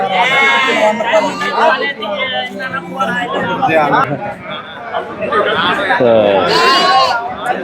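Goats bleating repeatedly at a busy livestock market in Ranipettai, Tamil Nadu, loud and close amid constant crowd chatter and talking voices.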